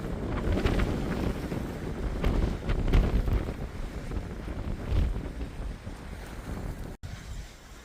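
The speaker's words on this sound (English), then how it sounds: "Oh, it is windy." Strong wind gusts across an exposed high mountain trail, buffeting the microphone with a steady, loud roar that surges and eases in waves throughout, with no talking.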